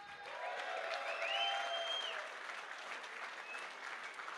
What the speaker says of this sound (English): So a big round of applause for NVIDIA, please.